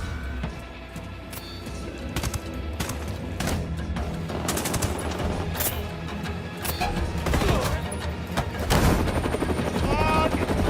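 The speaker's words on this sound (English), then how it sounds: "Get in the helicopter right now, Cheney!" A helicopter in the video game Tom Clancy's Wildlands: a loud continuous rotor roar mixed with bursts of gunfire and chaotic game sounds.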